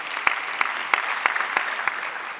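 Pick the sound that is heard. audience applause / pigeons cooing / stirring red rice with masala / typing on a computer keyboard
audience applause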